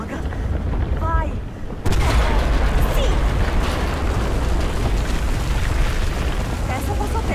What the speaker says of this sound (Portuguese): Só contei duas explosões.